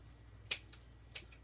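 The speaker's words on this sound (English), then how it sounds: "Cut off the excess here." Scissors snip off excess material during a craft project. Two sharp, quick cuts come about half a second apart, with a softer click between them, against a quiet room hum.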